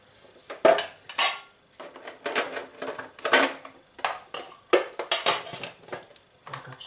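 Clattering handling of a coffee machine as a capsule is loaded, with a series of sharp close clicks, knocks and plastic-and-metal rattles in bursts, fairly loud and with no talk.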